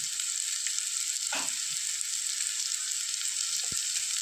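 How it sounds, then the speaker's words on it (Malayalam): Tomato and onion with ground pepper and turmeric sauté in oil for a Kerala-style fish roast masala, a loud, steady sizzle that runs throughout with a couple of brief scraping stirs and no talk. "നന്നായിട്ടൊന്ന് ഇളക്കി ഒഴിപ്പിക്കുക ഈ തക്കാളി ഉള്ളിയൊക്കെ വഴന്ന് വരാൻ വേണ്ടി"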